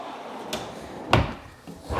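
A workshop drawer slides and thumps open with a short wooden knock, preceded by a faint click and followed by light rustling, all close by.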